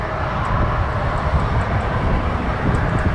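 A Boeing 777-300ER airliner bound for Frankfurt taxis at Toronto Pearson airport, its engines giving a steady, moderately loud broadband roar heard from a distance, with no talking.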